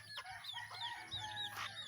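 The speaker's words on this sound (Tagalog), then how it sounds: "Ayun, tumilaok yun yung tatay nila." A small shirama rooster, the father of the flock on a game farm, crows in short high bursts amid other chicken clucks, moderately near over a steady low background hum.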